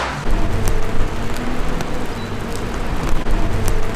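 Steady rain patter with a broad hiss and low rumble, continuous and fairly loud throughout, with a few sharper drops or clicks, in Falmouth, Cornwall.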